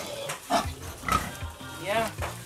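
Pigs grunt and oink repeatedly in a deep-bed farm pen lined with wood shavings, several short close grunts in quick irregular succession.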